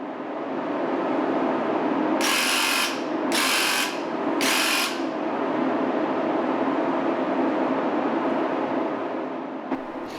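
A paint sprayer spraying onto a vertical work surface gives three short bursts of loud, bright hissing, each lasting about a second, close by, over a steady mechanical hum and with no voices.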